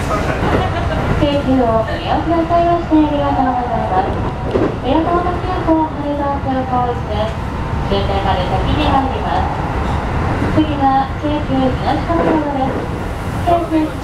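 Onboard running sound of a Keikyu New 1000 series six-car train with a Toshiba PMSM-VVVF inverter, on a Keikyu Main Line airport express between Yokohama and Keikyu Higashi-Kanagawa: steady loud motor whine rising and falling in pitch over rail rumble, with onboard announcements throughout.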